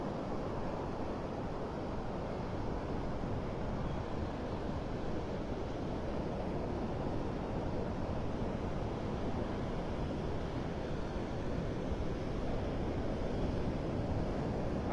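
Storm surf from Tropical Storm Debby surges onto Vanderbilt Beach in North Naples, Florida at high tide, a steady, dense roar of crashing waves mixed with wind buffeting the microphone, with no pauses throughout.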